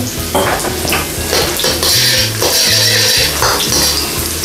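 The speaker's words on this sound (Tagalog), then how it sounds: "Talagang pag ang bawang, pag ginigisa, ang bango eh." Garlic sautés in hot cooking oil for sweet and sour fish, giving a close, continuous sizzle with repeated scraping and clinking of a utensil stirring against the pan.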